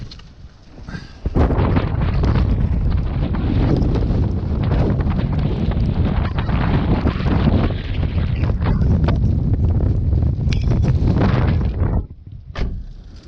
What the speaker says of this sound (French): il y a un espèce de vent énorme qui s'est levé